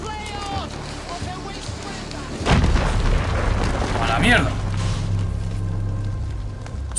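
An explosion in the video game Assassin's Creed Valhalla, a sudden loud boom partway through that rolls into a sustained rumble and debris noise, mixed with game audio.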